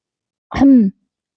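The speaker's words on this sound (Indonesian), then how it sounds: "suara batuk nyaring terdengar dari dalam rumah" One short, voiced cough-like burst from a person indoors, loud and close, isolated in silence.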